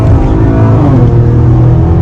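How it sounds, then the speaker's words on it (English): A Maserati Levante GT gives off a loud, steady engine roar as its turbo comes on, a dense, continuous rumble heard from inside the cabin. "Gonna wait for that turbo to kick in"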